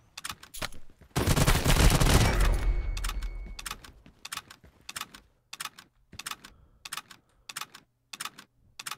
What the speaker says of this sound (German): Schussverhalten ist gut, aber auch nicht ganz so wuchtig wie bei anderen Games.